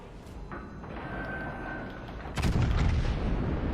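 The 18.1-inch guns of the battleship IJN Yamato fire in the game World of Warships Legends, a heavy deep boom that erupts partway through over a constant rumbling battle ambience.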